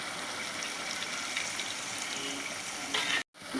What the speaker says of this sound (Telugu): నేను దీంట్లో రైస్ వేస్తానండి